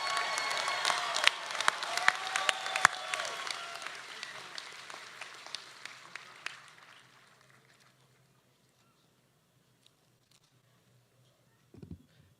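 Applause from a community college commencement audience: dense, steady clapping with scattered cheers that thins out and fades to near silence, followed by a faint thump.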